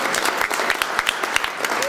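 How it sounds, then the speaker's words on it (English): A brief burst of steady crowd applause for a sponsor at a podcasting conference opening session, dense and even, with a faint voice or whistle near the end. "Let's give a round of applause for Lee"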